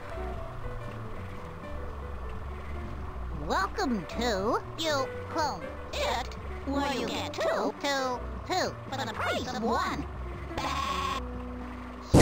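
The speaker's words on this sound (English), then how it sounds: "oh, sheep." Video game sheep bleat repeatedly in wavering, overlapping calls over a low mechanical hum, with some talking mixed in.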